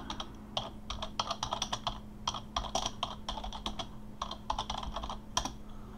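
Fingers type on a computer keyboard in quick, close clusters of crisp key clicks with short pauses between bursts, over a low steady hum and no talking.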